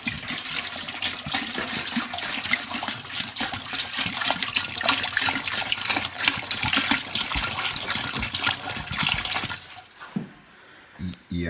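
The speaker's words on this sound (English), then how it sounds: "Water going in the pot." Water gushes steadily into a large cooking pot for homemade beer, a loud continuous pour that stops abruptly near the end, with voices faintly underneath.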